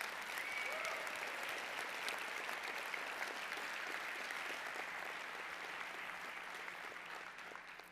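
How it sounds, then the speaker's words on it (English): An audience claps steadily for the military at a keynote talk, a dense, sustained wash of applause that holds even for the whole stretch and tapers only slightly near the end. "we get a round of applause for the military and those that are out there"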